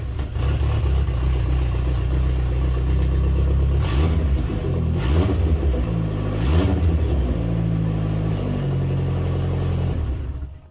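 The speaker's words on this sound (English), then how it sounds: "let's hear some turbo noises" A turbocharged MG ZR 1.8T engine idles loudly, then gets three quick revs in a row, each rising and falling in pitch. It settles back to a steady idle before cutting off at the end.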